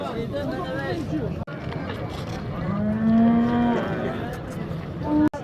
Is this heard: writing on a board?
no